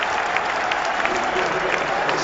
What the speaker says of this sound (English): They all applaud, they know the value of this innings.